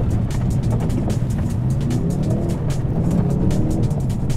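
A Ford Focus RS engine drones loudly from inside as the car drives a slalom course, steady rumble with rapid ticking road noise and slight pitch shifts.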